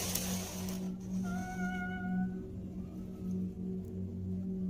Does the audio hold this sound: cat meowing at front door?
yes